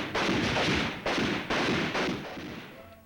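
Rifle fire at a military rifle range: four heavy, booming shots spaced roughly half a second apart, each with a reverberant decaying tail, from older film footage with no speech.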